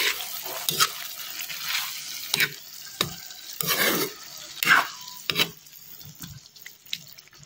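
A spoon stirs a peppered dish in a hot pan, scraping and clattering in quick irregular strokes over a continuous sizzle, fairly close, with no voices.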